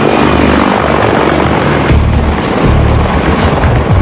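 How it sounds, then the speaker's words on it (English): A loud, steady roar of a CH-53E heavy-lift helicopter's 79-foot rotor and engines, a dense continuous wash of noise with a low throbbing undertone, close by. "The technological wonder of the giant copter is its 79-foot diameter rotor assembly."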